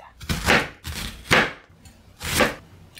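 An onion sliced with a knife on a cutting board: three loud, fairly slow chopping thuds with short pauses between, close and alone.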